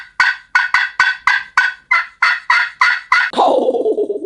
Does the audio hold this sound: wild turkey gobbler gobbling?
yes